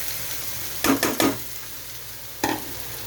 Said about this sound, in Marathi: आता आपले बॉईल बटाटे टाकूया